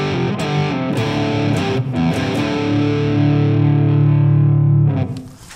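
Electric guitar played through the dirty channel of an Orange TH30 amp, giving a mild classic-rock crunch: a few picked notes, then chords strummed and held ringing until they cut off near the end.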